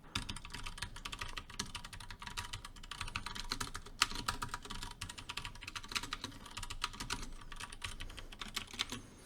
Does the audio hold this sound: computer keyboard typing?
yes